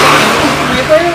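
A motorbike engine revs loudly and steadily close by, a continuous droning roar filling the whole moment with no voices over it.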